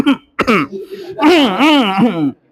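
A voice makes two short, deliberately fake coughs, as if stifling laughter, then a drawn-out vocal sound, close and loud.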